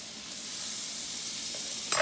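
A tomahawk cowboy ribeye sears in hot butter in a pan, giving a steady close hiss and crackle of sizzling fat that keeps going throughout, with a brief sharper spatter near the end.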